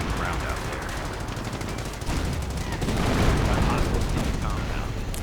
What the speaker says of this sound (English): Finally forced away by rather intense automatic fire from the Germans